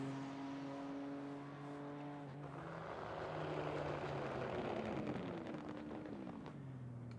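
A BMW M4 GT3 race car engine in the iRacing simulator at Silverstone during a time attack session, a fairly quiet steady drone that rises in pitch then surges into a broader roar and falls again.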